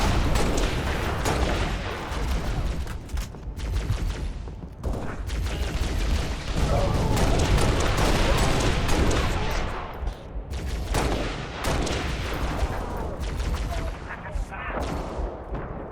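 Weapon fire in Halo: Reach from plasma cannon emplacements, a steady barrage of heavy booming shots and bursts that stays loud across the whole stretch while a person talks over it.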